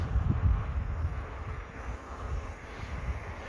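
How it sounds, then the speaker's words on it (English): Steady wind rushes across the microphone in a low, constant roar with mild swells, while the faint engine drone of an Eachine T-28 model plane sits underneath. "at least it's steady wind"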